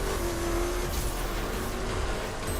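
Race car in The Crew accelerating hard on nitro boost, a loud, continuous engine roar with a rising whine, steady and close throughout, with no talk.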